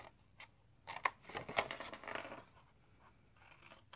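Scissors snip through paper score lines on a Stampin' Up Paper Pumpkin test tube holder craft, a few quiet, close cuts and rustles spread over a few seconds.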